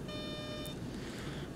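Repeating electronic cockpit warning beep in X-Plane 11 flight simulator during a cloudy ILS approach, steady tonal chirps sounding for most of the clip over a low engine rumble, then stopping.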